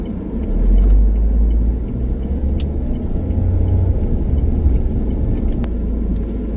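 Cars sit idling in a traffic queue near Makikihi on a New Zealand road trip from Dunedin, a steady low engine rumble with passing vehicle noise throughout and no voices.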